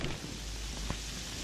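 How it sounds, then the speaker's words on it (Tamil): Steady heavy rain pouring down outdoors, a dense continuous hiss with a brief low rumble near the end, loud and unbroken with no voices. "மழை இப்படி பெஞ்சிட்டு இருக்குதே."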